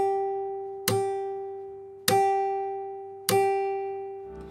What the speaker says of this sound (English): This is when you do the string slap technique